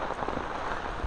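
Heavy rain falls on a flooded road in Jaffna during a red-alert downpour, a faint, steady hiss of drops with no talk.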